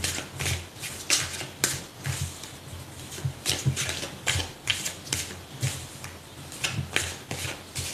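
Tarot cards being shuffled to draw an advice card: rapid, crisp riffling and slapping in irregular bursts, close and fairly quiet, with no talking.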